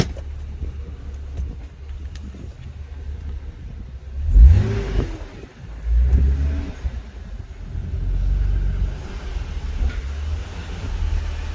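A manual 2023 Toyota GR Supra drives off to park, its low engine rumble steady throughout with a couple of brief revs rising midway, and no one speaking.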